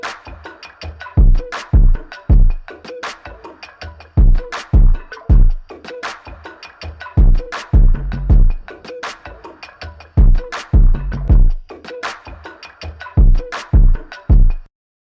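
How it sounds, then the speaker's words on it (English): A bass-heavy signal runs through the distortion section of a McDSP Futzbox plugin, its wobble mode modulating the low end into a pulsing, rhythmic throb that repeats for about fifteen seconds. "It modulates the low end frequencies of all the distortion characteristics."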